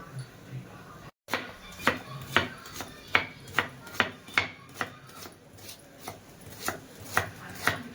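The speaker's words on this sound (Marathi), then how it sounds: "आपल्याला कांदा कापून घ्यायचा आहे पहिला" A knife chops an onion on a cutting board in a steady rhythm, about fifteen crisp, evenly spaced strokes close by, after a brief pause near the start.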